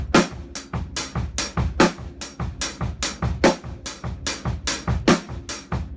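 Drum set groove with steady eighth notes on the hi-hat, snare cracks on beats two and four and bass drum underneath, played close and crisp in a repeating even rhythm with no talking.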